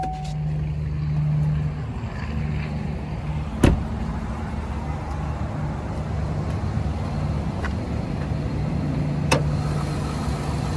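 GMC Sierra 1500 AT4 pickup with a 6.2 liter V8 idling close by, a deep, steady rumble that holds even throughout, broken by a couple of brief sharp clicks or knocks.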